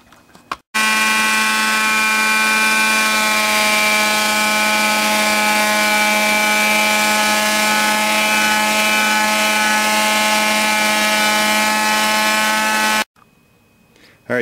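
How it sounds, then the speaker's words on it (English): A power sander works the wood of a guitar neck with a loud, steady, tonal whine that holds for about twelve seconds and then stops abruptly. "So I'm just going to work on sanding this down."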